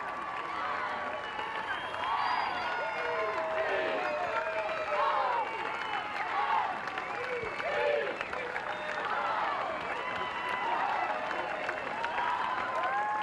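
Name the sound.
crowd applauding charity runners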